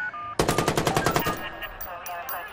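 Automatic gunfire in the video game Watch Dogs, a rapid burst of about ten loud, close shots in even rhythm, then sharp scattered clicks and a faint background hum.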